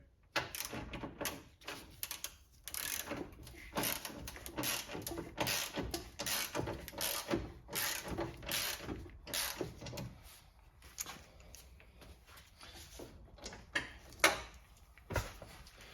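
Ratchet working a 10mm ground bolt loose on a Mk3 Toyota Supra, a steady run of rapid close clicking bursts with short pauses between strokes, fairly quiet and with no talking.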